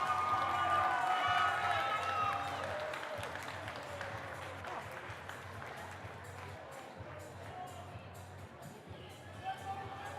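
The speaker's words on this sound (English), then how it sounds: "Big ol' round of applause for these exceptional athletes." Audience applause and crowd noise at a youth speed skating national final, a broad wash of clapping that is strongest at first and then thins and fades over about ten seconds, with faint voices in the background.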